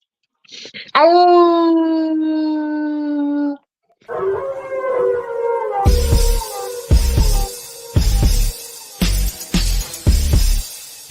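People imitating wolf howls, a long drawn-out human howl followed by a second wavering howl, then bursts of loud broken clattering noise; voices imitate the sound.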